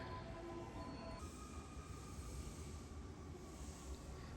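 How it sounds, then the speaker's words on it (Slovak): A Japanese train or metro in Osaka rumbles along with a steady mechanical roar and faint tonal whine that shifts partway through, continuous and moderately close, with no one speaking. "Idem vám trošku priblížiť tieto japonské vlaky alebo metra."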